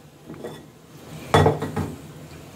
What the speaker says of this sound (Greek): θα τις βάλω με νεράκι στην κατσαρόλα